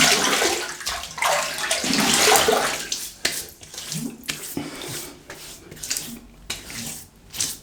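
Running water and splashing at a sink as a face is wetted before a wet shave with soap and brush, close and steady, then breaking into irregular splashes.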